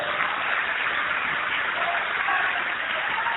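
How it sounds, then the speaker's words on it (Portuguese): Church congregation applauding during a Portuguese-language sermon, a dense, even wash of clapping that holds steady throughout, fairly loud and close, with no voices standing out. "vamos aplaudir mais o Senhor Jesus."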